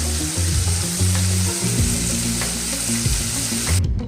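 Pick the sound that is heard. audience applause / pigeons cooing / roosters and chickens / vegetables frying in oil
vegetables frying in oil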